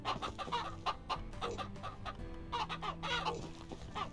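Chickens clucking in the farming game Ranch Simulator, several hens with overlapping rhythmic clucks and short calls, close and continuous throughout with no talk.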